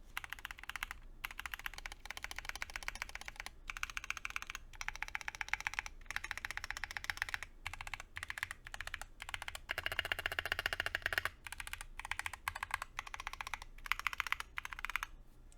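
Rapid typing on a modded mechanical keyboard with One Piece Gear 5 themed keycaps, close and crisp, a dense run of clacky keystrokes with short pauses between bursts.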